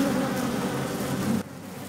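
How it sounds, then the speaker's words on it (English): Japanese honeybees buzzing in a tight defensive ball around a yellow hornet, a dense, close, continuous hum that stays loud and then drops off sharply just before the end. "Although the yellow hornet is surely dead by now, there is no sign of the bees stopping."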